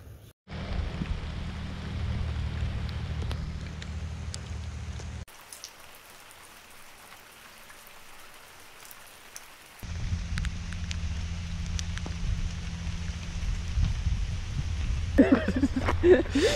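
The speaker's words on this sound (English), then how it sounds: "I think the forecast said rain. Yep. It found us." Steady rain falls outdoors on the New Hampshire seacoast, a broad even patter that cuts out for several seconds and then returns just as strong, with faint voices in the background near the end.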